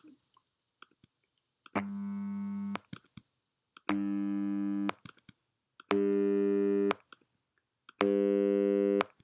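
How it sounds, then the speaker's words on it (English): Four steady buzzy tones, each about a second long, separated by short silences, all at the same low 100 hertz pitch with a rich, full timbre from a synthesized complex wave. "So the pitch of this note is not changing. It's always 100 hertz."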